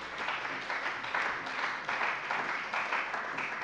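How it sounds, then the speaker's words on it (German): Applause in a German state parliament plenary session after a law passes; steady, fairly quiet clapping from the chamber sustained throughout, with no clear talk. "Applaus"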